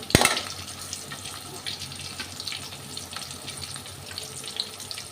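Shallots and green chillies frying in hot oil in a pan, a steady crackling sizzle that runs throughout after a sharp clatter at the start.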